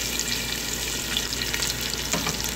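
Onions sizzle and crackle steadily in a hot pan while being fried for maqluba, a dense continuous hiss with occasional sharper pops, close and loud with no talking.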